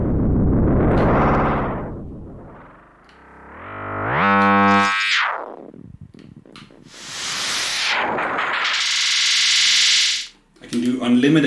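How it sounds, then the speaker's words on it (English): Prime Echo in the VR modular synthesizer SynthVR runs with very high feedback. Loud synthesized tones sweep up and down in long glides, pile into harsh, distorted, buzzing layers and drop out briefly before a gritty burst returns. "I can do unlimited feedback,"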